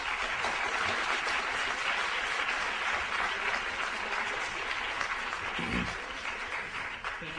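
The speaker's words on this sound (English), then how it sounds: "I would just ask the audience to hold your applause until the end of the debate" Debate audience applauding after an opening statement on affirmative action, a steady, dense wash of clapping from a large crowd that holds for several seconds and then starts to thin.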